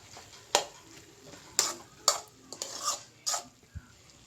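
Tomatoes for tomato pachadi cook in a pan, heard as a handful of sharp spoon-on-pan scrapes and clanks over a faint, quiet sizzle, with no voices.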